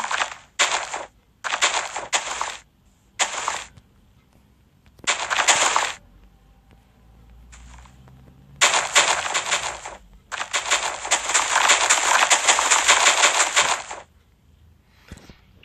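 Explosives blowing up in Minecraft PE parkour gameplay, a series of sharp booming blasts in irregular bursts, some short and spaced, then longer rumbling detonations, loud and close with no talking.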